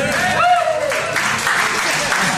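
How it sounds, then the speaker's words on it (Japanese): Audience clapping at a talent show, steady throughout and mixed with voices, including a rising call or cheer early on. "皆さん拍手お願いします"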